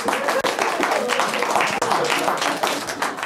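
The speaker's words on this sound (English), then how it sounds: "A big round of applause for Chris" An audience at a live stage show applauds a volunteer named Chris, a loud sustained round of clapping with voices mixed in.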